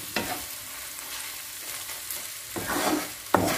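Pork fat pops and spits in a pan as shrimp fry with it, a steady sizzle broken by a few sharp crackles, the loudest near the end, with no voices.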